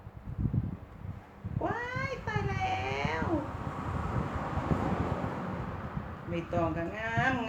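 A house cat kept as a rescue meows twice, a drawn-out wavering cry near the start and another toward the end, close and clear over steady background noise and some rumble.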